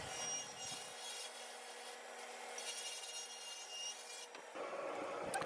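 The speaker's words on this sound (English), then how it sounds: "we're going to use the table saw fence to rip it down the length" Table saw ripping rough-sawn lumber to width along the fence, trimming off a rough edge for a DIY adjustable stand-up desk. A steady, close, bright rasping cut holds for several seconds, then the tone changes near the end.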